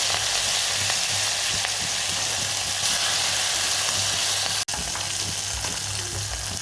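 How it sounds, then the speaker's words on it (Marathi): Cumin seeds and green chilli sizzle steadily in hot oil, a loud continuous crackling fry that holds evenly, with one abrupt instant dropout near the end before the sizzle resumes. "तेल छानपैकी तापलेले आहे जिरे घालूया"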